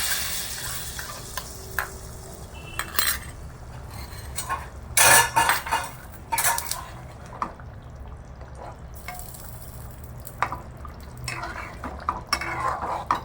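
Fried paneer masala being stirred in a pan with chilli powder, giving repeated scraping and clinking strokes of a spoon against the pan over a soft background sizzle, with a few louder bursts of stirring, and no talking.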